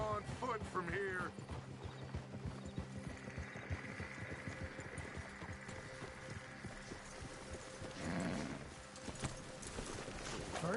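Horses shifting and clopping as riders dismount in Red Dead Redemption 2, hoof thuds irregular and fairly close beneath a low hum, game voices and ambient music.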